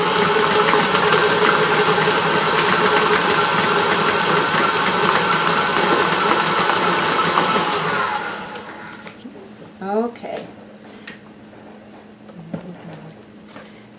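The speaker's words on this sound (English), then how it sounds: "we're just going to mix this until it's smooth" An electric mixer runs steadily through chocolate chip cheesecake batter, a loud close whirring hum that stops after about eight seconds, followed by quieter clinks and handling noises.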